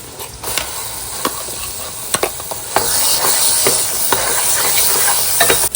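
Ground masala paste frying in hot oil in a village kitchen, a loud steady sizzle and hiss with scattered sharp clicks of a spoon scraping and stirring the pan, no voices.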